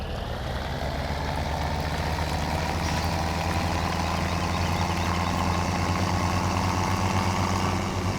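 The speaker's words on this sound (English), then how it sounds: "the engine note is pretty loud, but can you hear how loud the tire sound is?" A tractor engine drones at a steady idle-like rumble in Farming Simulator 17 while the tires roll along, a constant loud low hum with a broad noisy layer on top and no talk.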